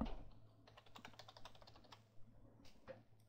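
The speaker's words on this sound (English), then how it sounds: "I just have to type my login and my password" Login details are typed on a computer keyboard as a run of quick, light key clicks, close and quiet, with short pauses between bursts.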